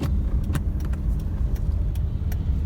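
Honda City ZX Gxi sedan rolling along in gear after an engine decarbonization, a steady low engine and road rumble with a few light rattles and clicks over it.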